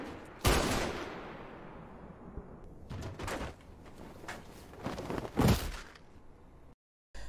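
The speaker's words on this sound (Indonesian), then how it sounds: "Jiwo pun menembak Ganje 2 kali" Gunshots ring out in a film scene, a few sharp, loud cracks spaced irregularly, each followed by a decaying tail, with quieter rumbling between them before sudden silence.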